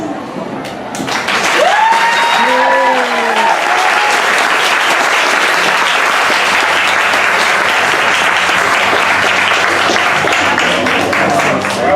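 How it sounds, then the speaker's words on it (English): An audience at an author panel in Austin, Texas applauds to welcome the authors to the stage, a steady, loud wash of clapping that holds for the full stretch, with a few voices and cheers mixed in near the start. "Let's give them another hand."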